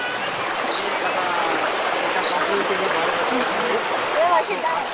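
Steady rushing floodwater in a low-lying colony after heavy rain in Warangal, a dense continuous wash of flowing water throughout at a strong, even level.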